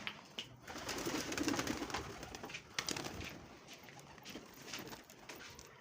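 Pigeons cooing on a rooftop where fancy pigeons are kept, repeated low soft coos mixed with wing flaps and light patter, close by and fairly loud, with no talking.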